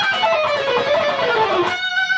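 Electric guitar playing the closing section of a riff, a fast, dense lead line with fluttering notes and sliding pitches that stops abruptly near the end, leaving a short ringing tail with no talking.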